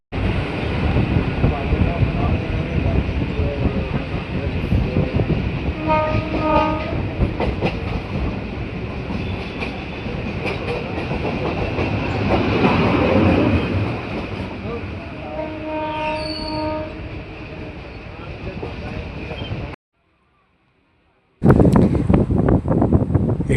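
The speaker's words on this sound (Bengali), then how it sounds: "আমাদের ট্রেন এসে পৌঁছালো" A local train on the Budge Budge to Naihati line runs with a continuous loud rumble and rattling carriages, brief horn-like tones sounding twice. Faint voices are heard, and the sound cuts out briefly near the end.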